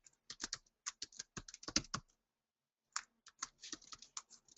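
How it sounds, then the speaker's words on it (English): Computer keyboard typing in two quick bursts of crisp, close key clicks separated by a short pause, with no talking. "Let me type that in."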